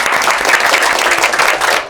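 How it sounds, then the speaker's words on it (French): A television studio audience claps for a guest on a Malian talk show, brief, loud and continuous, fading out at the end. "On applaudit pour lui."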